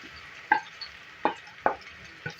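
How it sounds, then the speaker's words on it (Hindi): Three medium onions frying in oil in a pan for an aloo kaleji (potato and liver) dish: a soft steady sizzle with a few distinct stirring scrapes and clinks at irregular intervals, close up, with no talk. "देखिए यहाँ पे तेल में हम प्याज ऐड करेंगे 3 मीडियम साइज़ की"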